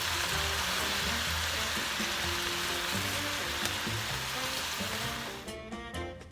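Shrimp frying in a pan, seasoned with garlic powder and pepper, makes a steady, dense sizzle with faint clinks of stirring, and the sizzle eases near the end.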